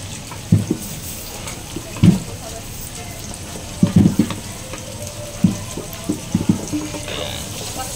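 Onions fry in a pan for chicken liver and gizzard sisig. A soft, low sizzle runs underneath while a spoon stirs in scattered clunks and scrapes against the pan.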